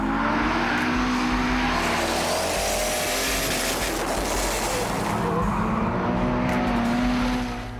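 Drift cars in a team drift practice session roar past with loud revving engines and screeching tyres, a continuous sweep of engine noise and tyre squeal rising and falling as the cars slide by close.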